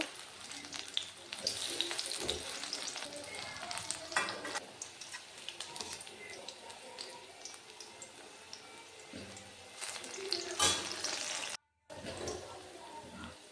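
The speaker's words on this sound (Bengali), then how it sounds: "এরকম লাল লাল করে সব কটা ভেজে নেব।" Papaya fritters (bora) frying in a pan of oil, a continuous close bubbling sizzle with occasional louder bursts and scrapes as pieces are turned, broken by one brief silent gap near the end.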